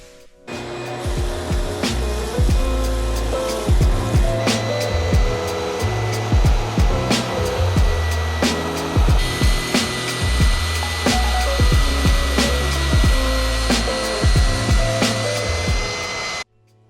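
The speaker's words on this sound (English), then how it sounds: "now I can cut the miters on them and fold it up into a faux beam" A power saw cuts miters on planed wood boards for a faux mantel beam, a loud continuous motor whine with repeated rhythmic bites of the blade into the wood, close and steady for about sixteen seconds before stopping.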